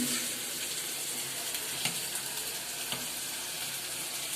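Dal (lentils) cooking in a pot on a home kitchen stove: a steady soft sizzling, bubbling hiss with faint clinks, moderately close and fairly quiet, with no talking.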